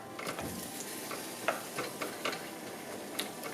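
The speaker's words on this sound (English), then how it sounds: "Now what I'm going to do is just mix everything a little bit" Butternut squash pasta mixture being stirred in liquid in a pot, soft wet scraping and a few light taps of a spoon over a faint simmering hiss.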